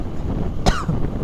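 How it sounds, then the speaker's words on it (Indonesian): A single short cough from a person outdoors on a windy day, sharp and close, over a faint background of wind noise. "batuk."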